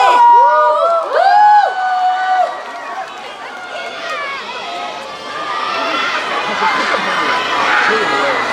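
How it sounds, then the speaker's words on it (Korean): Fans at an outdoor K-pop concert in Ulsan let out high, piercing shrieks at first, then the sound spreads into a dense, loud wash of cheering and crowd noise. "큰 박수!"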